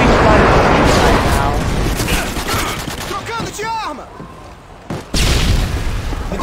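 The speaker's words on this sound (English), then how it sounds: "Friendly airstrike" Friendly airstrike in Modern Warfare 2, a loud dense barrage of booming explosions and rattling gunfire that sweeps through, briefly drops away, then bursts back in at full force.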